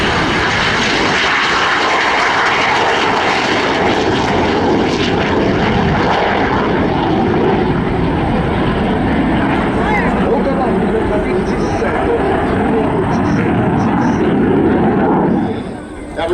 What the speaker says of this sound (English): On the takeoff roll from the right, it's about to get noisy. Here is the MiG-17.